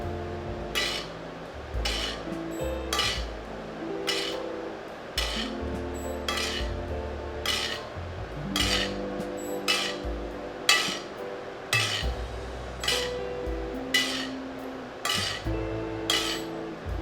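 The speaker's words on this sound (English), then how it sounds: "So we're gonna go ahead and just keep butter basting on this side now." Steak being butter-basted in a hot pan with aromatics: a steady sizzle under regular clinks and scrapes of a spoon against the pan, repeating roughly every second, close and with no talking.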